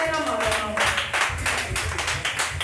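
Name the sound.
church congregation clapping and acclaiming the Lord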